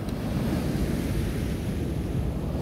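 Wind buffets the microphone and ocean waves surge along the wet, windy Blackpool seafront, making a continuous heavy low roar with no talk.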